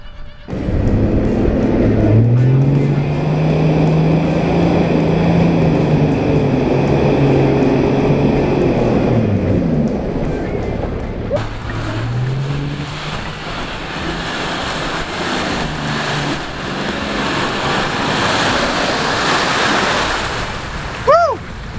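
An 80 series 4x4 off-roading in the UK churns through a water hole on a corner and then climbs a hill. Its engine labours and rises in pitch under constant splashing and heavy wind noise.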